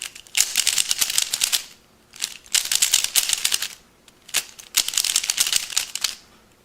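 Rapid clicky plastic clacking comes from a Rubik's cube turned one-handed, in three dense bursts of quick turns about a second and a half long, separated by brief pauses; close and crisp, with no talking.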